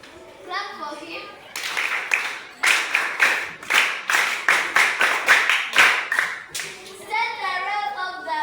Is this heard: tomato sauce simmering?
no